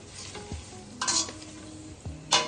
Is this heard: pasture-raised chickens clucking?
no